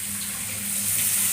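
Rinse water from a spice bowl is poured into a pan of okra and potatoes, making a short splashing, hissing sizzle that grows slightly louder toward the end, with no voices.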